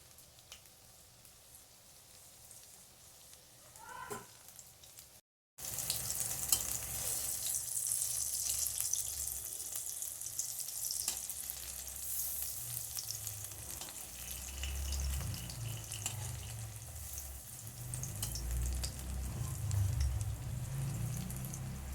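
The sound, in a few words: deep-frying matar dal bora (pea lentil fritters)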